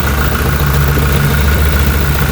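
A 1.9-litre four-door manual sedan idles close by with a steady, smooth engine hum and an even low throb.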